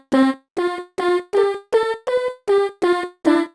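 Nine chopped vocal samples stacked and played together as a sampler instrument, each a short sung syllable firing in a steady rhythm at roughly even spacing, loud and up close with no other sound.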